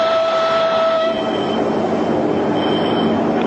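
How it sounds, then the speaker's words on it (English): A missile-carrying train rolls past on the rails, a steady loud broadband rumble of wheels with a thin metallic squeal fading in the first second, continuous throughout with no voices. "This train, with its hidden missiles, capable of launching 30 warheads on the move."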